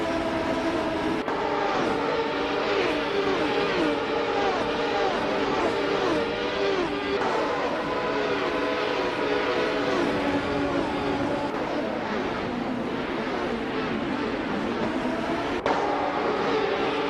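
Race cars drive in a racing video game, with a 1995 Renault among them, producing continuous engine whine with shifting, rising and falling tones over a steady background for about seventeen seconds.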